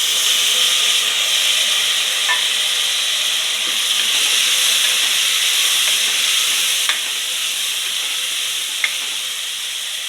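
Tomatoes sizzle in a hot pan for a Kannada cluster-bean stir-fry, giving a loud, constant frying hiss with a few faint clinks, close and steady throughout.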